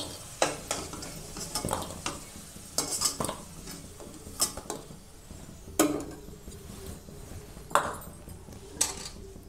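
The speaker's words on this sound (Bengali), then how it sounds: "ভালো করে একটু আলুগুলো ভেজে নেব" Potatoes frying in a pan, an ongoing sizzle broken by repeated sharp clinks and scrapes of a utensil stirring against metal, close and clear with no speech.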